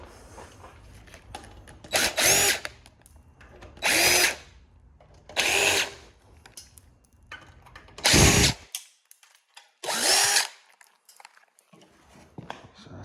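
A power drill with a 5-point hex bit drives Allen screws while a t-shirt printer is scrapped, heard as five separate short whirring bursts about two seconds apart against a quiet background.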